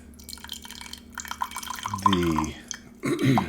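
Liquid is poured while a bourbon hot toddy is made, light drips and trickles followed by a short gurgling pour, close and moderately loud, with faint talk nearby.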